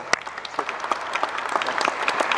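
Crowd applause for finalist teams at a clean energy competition event, a short stretch of brisk, continuous clapping from many people.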